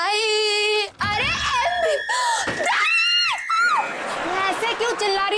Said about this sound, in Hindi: ऐसे क्यों चिल्ला रही हो दीदी?